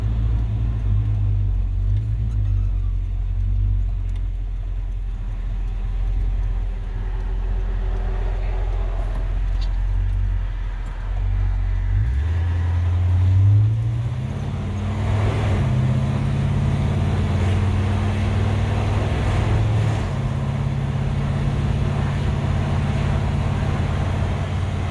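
A 1956 Chevrolet 150 two-door wagon drives along with a steady low engine rumble heard from inside the cabin, the note rising and shifting midway as it accelerates through gears, continuous throughout with no talk.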